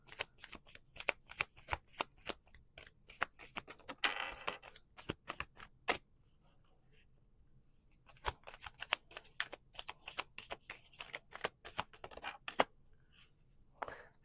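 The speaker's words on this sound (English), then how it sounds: "we're going to again pull some oracle cards here" Oracle cards are shuffled by hand in a series of crisp, rapid riffling bursts with short pauses between them, close and clear with no talking.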